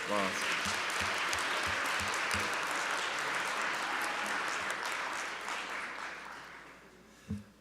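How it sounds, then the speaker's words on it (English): An audience at a school district board meeting gives a sustained round of applause that fades gradually, with voices mixed in beneath the clapping and a single sharper sound just before it ends. "let's give him another big round of applause"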